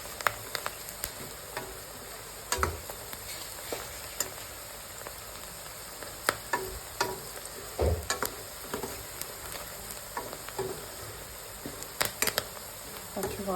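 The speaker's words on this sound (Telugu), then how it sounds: "పచ్చి వాసన పోయే వరకు పసుపు ఇలా వేయించుకోవాలి" Turmeric sizzles and fries in a pan as the base for a chicken curry, a steady faint crackle broken by scattered sharper pops and stirring clicks, heard close and low throughout.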